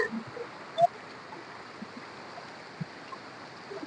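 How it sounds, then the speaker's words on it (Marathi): Fast-flowing muddy stream water rushes in a steady, soft, distant wash with a few small splashes and knocks, heard outdoors during night crab catching in the Konkan. "पाण्याला प्रेशर बघू शकता पूर्ण गडूळ पाणी आहे"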